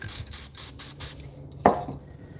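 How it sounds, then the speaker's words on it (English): Five quick hissing bursts of a Spraycasso black spray paint can in an even rhythm, followed by quiet and a single soft knock. "We're gonna spray a little bit of black right here."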